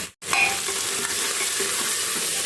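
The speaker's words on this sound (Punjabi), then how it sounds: "ਭੁੱਜ ਗਏ ਨੇ ਭੁੱਜ ਗਏ ਪਿਆਜ਼ ਹਰੀ ਮਿਰਚ ਭੁੱਜ ਗਈ" Onions and green chilies fry in a pan with a steady loud sizzle and crackle, stirred once near the start, with no talking over it.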